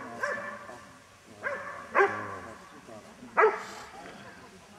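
A dog barks in short, separate barks spaced a second or so apart at moderate distance, with people talking quietly between the barks.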